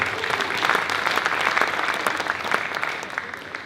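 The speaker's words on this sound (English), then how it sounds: "Give yourself a round of applause" Dense applause from an expo audience during a Lord Mayor's address, many hands clapping steadily and fairly close for the whole stretch, with no speech over it.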